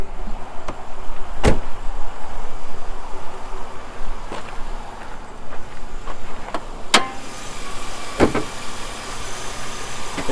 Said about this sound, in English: So let's take a peek under the hood.